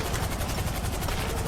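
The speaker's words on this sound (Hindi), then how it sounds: "कि हेलीकॉप्टर की आवाज कहां से आ रही है?" Helicopter rotor blades chop rapidly and loudly in GTA 5, a dense steady thudding pulse with no voices.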